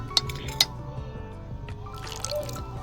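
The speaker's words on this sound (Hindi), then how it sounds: "इसलिए हम थोड़ा सा और पानी ऐड कर देंगे इसमें" Water trickling and dripping into a bowl of pakora batter in a village kitchen, a few light splashes and drips, close and fairly quiet, with no talk over it.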